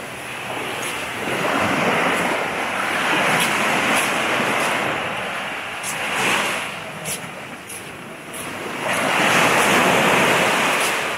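Ocean surf rolling in at the Grand Palladium Lady Hamilton resort in Montego Bay, Jamaica: a steady, loud rush of waves swelling and easing in long surges, with some wind buffeting the microphone and no talking.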